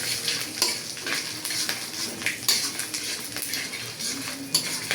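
Garlic cloves and panch phoron fry in oil for a sweet olive pickle, a dense, continuous sizzle close by, broken by frequent scraping and clinking of a spoon stirring against the pan, with no talking.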